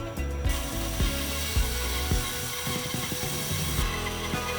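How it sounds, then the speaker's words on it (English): Bandsaw cutting small slices from scrap wood. Its motor gives a continuous close whine, and repeated thumps and knocks mark each slice over a few seconds, with no talking. "My parents gave me a bandsaw for Christmas, and this is the first time I'm using it."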